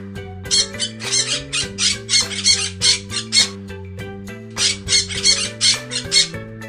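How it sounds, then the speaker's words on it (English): A cartoon parrot in a kids' alphabet rhyme gives a run of quick, bright squawks in rhythmic bursts, set against a bouncy musical backing with a short pause midway. "P for parrot."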